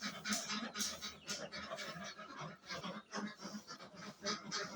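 Ducks on a confined duck farm, a dense flock of quacking and honking calls overlapping in a busy, moderately distant chorus with no clear talk.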